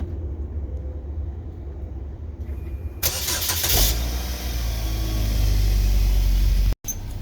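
A car engine turns over and catches, then settles into a steady low idle as it warms up on a cold morning, close by with background rumble and no talk.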